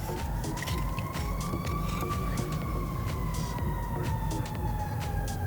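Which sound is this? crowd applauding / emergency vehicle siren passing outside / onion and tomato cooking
emergency vehicle siren passing outside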